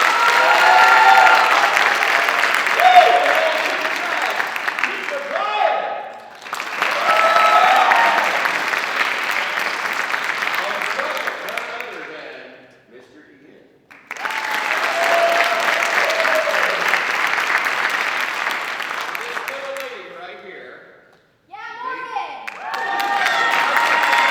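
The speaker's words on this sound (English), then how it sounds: "You didn't clap loud enough. Let's try it again." A school band concert audience breaks into three long bursts of loud applause mixed with cheers and children's shouts, separated by brief near-silent pauses.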